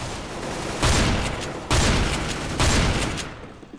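Gunfire from the video game CS:GO comes as a dense, loud, continuous burst of rapid shots in three surging waves, nearly unbroken and without talk, before tapering off at the end.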